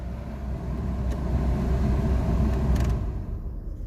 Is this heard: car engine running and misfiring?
yes